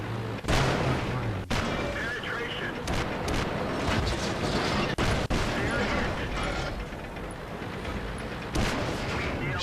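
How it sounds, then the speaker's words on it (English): Tank cannons firing in World of Tanks, loud booming shots repeating at irregular intervals over a dense, continuous din of battle and engine rumble. "Shooting him lots of times"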